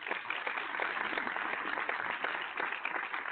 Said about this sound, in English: Let's applaud Chris.